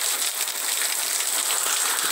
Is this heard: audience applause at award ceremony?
no